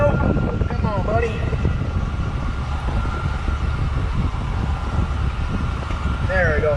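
A Jeep Wrangler YJ crawls in 4 low, its engine a steady low rumble with wind buffeting the microphone, while someone talks over it.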